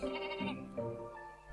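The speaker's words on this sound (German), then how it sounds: "Hört sich dann an wie eine Ziege." Goat-like bleating cry of a creature in the handheld game Kingdom Hearts 3D Dream Drop Distance, a wavering nasal bleat in two close bursts, heard alone and fairly clear.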